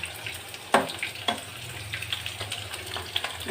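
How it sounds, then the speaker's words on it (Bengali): Cauliflower florets frying in a pan for khichuri give a steady low sizzle, broken by a few sharp clatters of stirring or utensils; no one speaks. "তোমরা দেখতে পাচ্ছ আমার লাল লাল করে মোটামুটি ফুলকপি ভাজা হয়েও গেছে।"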